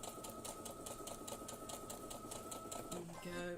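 A sewing machine stitches patchwork quilt pieces with a fast, steady run of clicks, then slows near the end, and it sounds faint and close.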